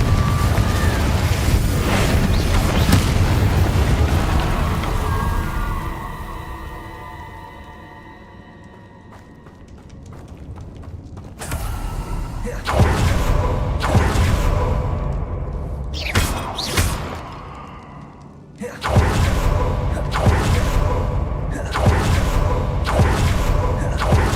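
Incendio and Confringo spell blasts in the Hogwarts Legacy video game burst out as booming whooshes and thuds, several sharp hits in quick succession over a rumbling game soundscape, with no talking.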